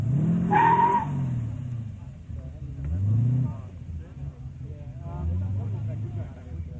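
A small, tough car revving at Summernats, engine rising and falling in repeated surges with some tire noise, heard under a commentator's voice.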